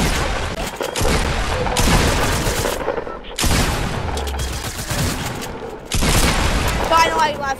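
Explosions and gunfire crackle in an online shooter game, with dense rumbling booms and rattling blasts in several loud bursts separated by brief drops.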